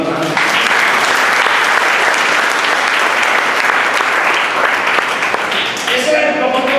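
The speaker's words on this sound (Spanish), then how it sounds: "Le damos un fuerte aplauso al Señor" Church congregation giving loud, sustained applause during a sermon, a dense wash of clapping filling the room with scattered voices mixed in, tapering slightly at the end.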